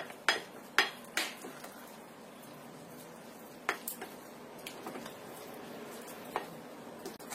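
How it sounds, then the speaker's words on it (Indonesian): Cheese, margarine and butter stirred together in a bowl with a ladle for cookie dough, a few sharp clinks against the bowl early on, then quieter scraping with occasional taps, close and without talk. "Aduk sampai semuanya tercampur, keju dan juga margarin dan butternya tadi"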